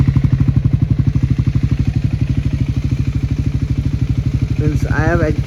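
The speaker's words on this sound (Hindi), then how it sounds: "So let's turn on the motorcycle right now." Triumph Scrambler motorcycle engine idling steadily and close, a loud even low thump throughout, with a brief rising whine near the end.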